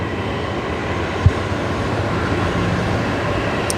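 A Jetstar A321neo jet on its takeoff roll gives a steady, broad engine roar at a distance, loud and continuous, with one brief click near the start and no talking.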